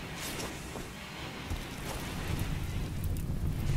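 Rain falls in the video game RimWorld as a soft, steady hiss that thickens slightly toward the end, alone and fairly faint.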